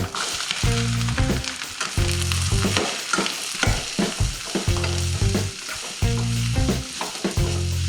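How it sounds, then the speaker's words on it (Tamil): Green chillies and chopped onion frying in a pan for dhaba-style paneer masala: constant close sizzling with rhythmic stirring scrapes, and a tonal background hum or music underneath. "அடுத்து நம்ம பச்சை மிளகாய், பொடியை கட் பண்ணி வச்சிருக்கோம்ல வெங்காயம், அதையும் இதில் போட்டுக்கலாம்"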